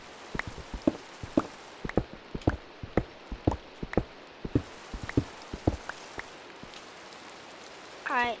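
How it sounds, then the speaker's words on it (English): Rain in a video game, a soft steady hiss with scattered drips and patters throughout, quiet, with a brief voice at the very end. "Oh my god, it's raining too."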